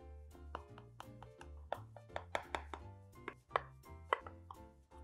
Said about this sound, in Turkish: Bir de aralardan da güzel sıcaklığın girebilmesi için fırına atmadan önce dilimleme işlemini de yapıyoruz.